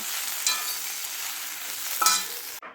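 Okra sizzles steadily in a hot pan, a bright continuous hiss broken by a couple of stirring scrapes, with no voices.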